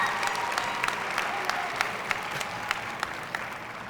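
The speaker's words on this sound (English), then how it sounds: "So can I get a round of applause just so we could drink it in?" An audience applauds in a dense, steady burst, with a few sharper individual claps popping out above the crowd.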